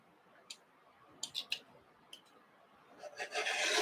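Scissors crisscross cutting fabric pieces for a quilt block, giving a few faint, close snips followed by a louder, longer stretch of crisp cutting.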